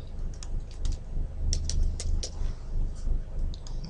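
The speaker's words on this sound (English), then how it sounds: "So I'm gonna type in erase" Fingers tapping on a computer keyboard, a series of light, uneven clicks in short bursts over a soft low hum, close and fairly quiet.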